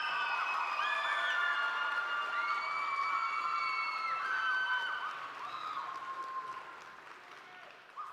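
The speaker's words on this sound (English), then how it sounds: "We'll give them one more round of applause, yes?" Graduation ceremony audience at ASFA breaks into sustained applause mixed with cheering and high whoops, loud and dense for several seconds before easing slightly toward the end.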